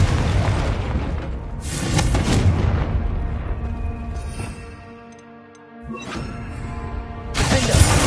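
A Confringo fire spell explodes in the Hogwarts Legacy video game, a loud booming blast with crackling debris that fades, then a second heavy burst hits near the end.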